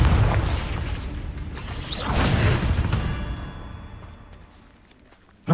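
A Confringo fire spell bursts in Hogwarts Legacy, a booming blast that flares midway and rumbles down, with a sharp hit at the very end.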